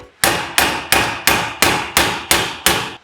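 Eight evenly spaced hammer blows ring out loud and close on a steel bolt stuck in BMX cranks, each a sharp metallic strike with a short decaying ring before the next.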